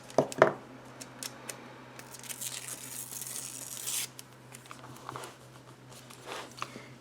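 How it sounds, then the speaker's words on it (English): Paper is torn slowly and steadily for a planner page, a close, soft ripping that runs for several seconds after a sharper crinkle at the start. "maybe I will try to tear this."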